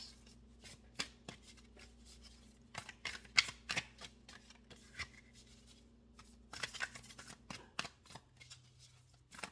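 Lightworker Oracle cards are shuffled by hand, giving a quiet series of crisp riffling flutters and soft slaps in uneven bursts against a low steady hum, with no talking.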